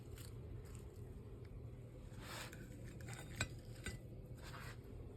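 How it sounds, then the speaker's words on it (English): Pieces of beef liver are added back into gravy in a pan, with faint clinks of a utensil against cookware and soft stirring scrapes at low volume, a couple of slightly sharper knocks in the middle. "now I'm going to add the beef liver back to the gravy"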